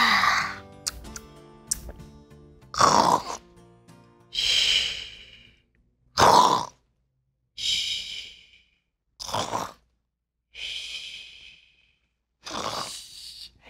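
Exaggerated snoring comes in a regular series of about eight loud breaths, each snorting inhale followed by a whistling exhale and short pauses between them, close and alone, apparently performed by a voice imitating sleep.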